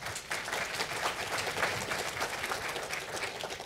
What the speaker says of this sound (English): join me in another round of applause for our moderator and our panelists.